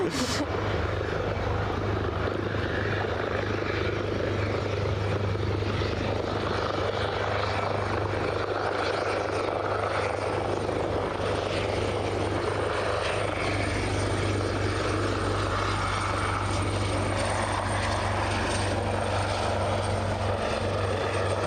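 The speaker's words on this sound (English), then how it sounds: "Looks like we've got an Eastern Airways departure as well." An Eastern Airways aircraft departs Aberdeen airport, its engine drone steady and fairly distant across the whole stretch, with a constant low hum beneath and no speech.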